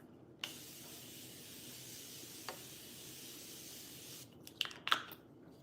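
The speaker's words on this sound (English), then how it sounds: "I'm just gonna put some setting spray." Makeup setting spray misted onto a face, a soft steady hiss lasting several seconds, then a few quick louder spritzes near the end.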